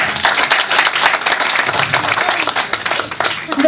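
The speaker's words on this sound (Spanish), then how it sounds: "me encantaría que culminara con un fuerte aplauso para el autor" An audience at a book presentation in Tampico breaks into strong applause for the author, dense continuous clapping from a nearby crowd throughout.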